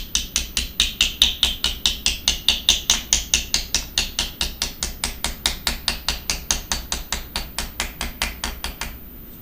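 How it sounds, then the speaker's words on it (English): A nylon hammer strikes a folded copper sheet about forty times in a fast, steady rhythm, each blow a close, crisp tap with a short ringing decay, stopping abruptly near the end; no talk. "So I want to flatten this with my nylon hammer again"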